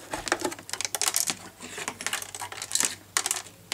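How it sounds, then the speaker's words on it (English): A small plastic iPod dock being shaken, its loose internal parts giving off a quick run of light, close clicks and rattles, like coins or keys, with no voices. "it's a bit rattly."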